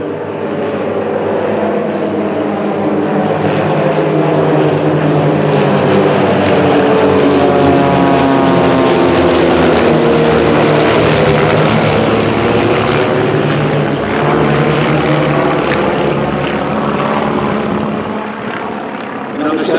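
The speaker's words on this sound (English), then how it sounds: "We're flying in a V formation of leadership, lead pilot in front." Propeller airplanes flying over in V formation during a memorial flyover, a loud sustained engine drone that swells and fades across the pass, with a voice talking faintly underneath.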